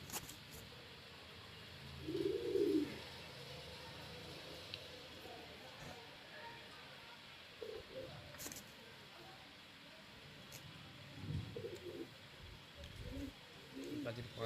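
Racing tournament pigeons coo in a soft, low burst near the start, then give scattered fainter coos later, close by and quiet, with a voice talking at times.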